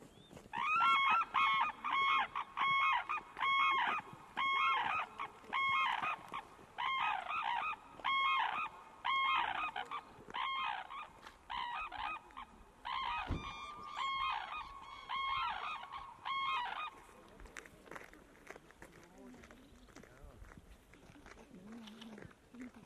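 Red-crowned cranes call at a winter feeding ground in Hokkaido, Japan, sending out loud, repeated honking, trumpeting bursts in a steady rhythm that thin out to quieter, scattered calls near the end.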